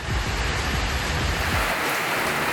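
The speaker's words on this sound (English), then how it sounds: "It's been non-stop torrential downpour." Heavy torrential rain pours down steadily in Thailand during the rainy season, a dense, loud, continuous roar with no voices.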